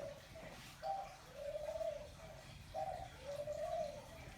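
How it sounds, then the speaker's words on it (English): A female dove coos softly indoors in repeated two-part phrases, each a brief note followed by a longer rolling coo, with a steady low hum underneath and no talking. "the female dove's getting feisty"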